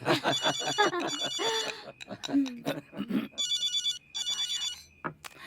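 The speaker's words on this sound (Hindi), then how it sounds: "तुम फोन क्यों नहीं उठा रहे हो?" A phone's electronic ringtone trills in repeated bursts while people talk over and between the rings nearby.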